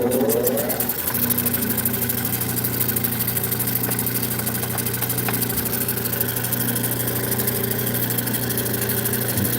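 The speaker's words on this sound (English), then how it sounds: "it's the wrong screw. So it makes a little tapping noise." A rock-cutting saw with a water pump, fitted with the wrong screw, runs loud and steady, a continuous mechanical drone with a fast, rattling tap, cutting bloodstone and turquoise, with no voices.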